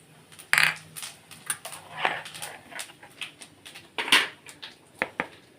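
Half a spoon of cumin seeds dropped into hot oil with four dried red chillies for tempering, giving scattered sharp crackles and pops, with a louder burst near the start and another a few seconds later, close and fairly quiet.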